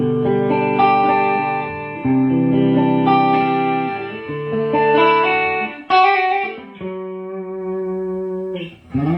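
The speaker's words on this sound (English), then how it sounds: "So the clean sound with the neck pickup." A Washburn N24 electric guitar plays on its neck pickup with a clean tone through a Marshall JVM amp, with sustained chords and ringing single notes at moderate volume and a little reverb.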